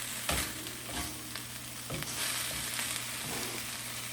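Garlic and cumin stirred in a hot pan, a steady fry with a few scraping strokes of a utensil against the pan, up close with no voices.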